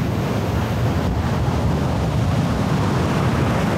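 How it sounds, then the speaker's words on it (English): Waves roll onto a beach in Indonesia as a steady, broad wash of surf, heard alone and close, with wind buffeting the microphone throughout. "Really nice beach,"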